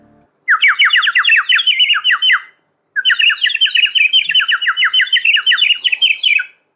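A water-filled bird whistle imitating sparrow chirps, blown in two long bursts of rapid, bright warbling trills separated by a short pause, loud and close with no talking.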